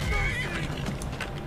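A horse in the video game Skyrim gives a loud neigh and whinny close by, along with a few hoof clops, over a background of game sound.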